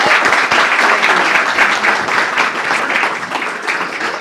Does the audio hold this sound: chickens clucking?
no